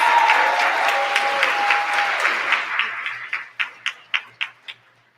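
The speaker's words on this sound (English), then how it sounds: "let's give our President and Dean's List Scholars a round of applause" At an honors program ceremony, an audience applauds President's and Dean's List scholars with a full round of clapping that thins out and trails off into a few scattered, separate claps near the end.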